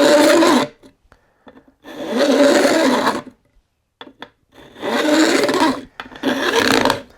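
A hand file rasps along the fret ends at the edge of a fretboard, beveling the frets on a six-string multi-scale guitar neck; four loud, close, steady strokes are separated by brief pauses with a few light taps.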